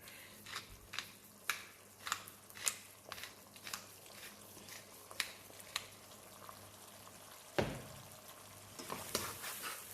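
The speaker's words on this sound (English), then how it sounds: "then just stir all that together. Stir it properly." A spoon stirs stuffed pumpkin filling in a sizzling pan, with irregular soft scrapes and taps over a faint frying hiss, close and fairly quiet.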